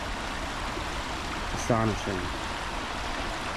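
Water runs steadily over the rocks of a creek bed, a constant broadband rush heard up close, with a brief spoken word partway through.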